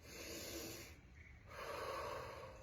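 Slow, deep diaphragmatic breaths during a runner's breathing drill, with hands on the ribs and hips: a long soft inhale, a short pause, then a fuller airy exhale, close and quiet.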